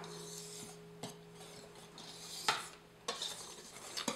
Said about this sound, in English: we're just going to mix it up